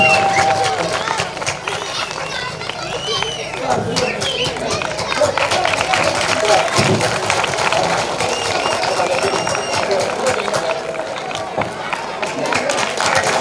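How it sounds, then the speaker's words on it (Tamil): An audience claps steadily through a village ceremony in Peraiyur, Ramanathapuram, honouring a tenth-grade student with a sandalwood garland and a shield. The sustained clapping carries on under loud talk and crowd chatter. "அனைவரும் கைதட்டுங்க"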